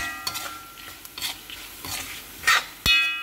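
Chili powder roasting in hot oil in a pan while making puli inji, the Kerala sadya ginger-tamarind relish: a soft, steady sizzle broken by a few scraping stirs and clinks, quiet and close, with no talking.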